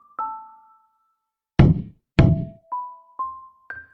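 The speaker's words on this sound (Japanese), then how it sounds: "ドアをノックすると" Two sharp, hollow knocks land on a door about half a second apart, set among short chiming tones in a narrated story scene, with no voices heard.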